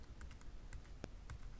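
Arrow keys on a computer keyboard are tapped in a quick run of light, faint clicks, close by with no talking.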